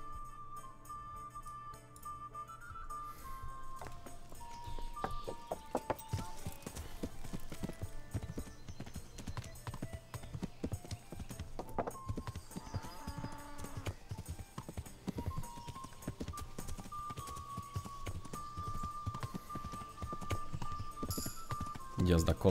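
Horse hooves clip-clopping at a steady riding rhythm in Kingdom Come: Deliverance, continuous throughout under game music and someone talking.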